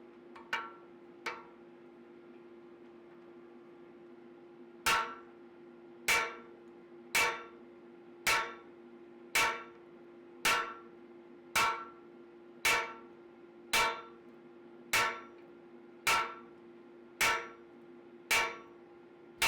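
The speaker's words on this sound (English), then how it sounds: "So we'll switch around and use that back side of the Japanese bladesmithing hammer." Hand forging steel with the back of a Japanese bladesmithing hammer on a katana pommel: two light taps, a pause, then a steady run of about a dozen sharp, ringing blows at close range over a low hum.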